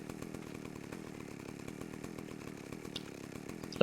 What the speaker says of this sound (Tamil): செயின்ஸா பார்த்தீங்கன்னா ரொம்ப பவர்ஃபுல்னு நினைக்கிறேன்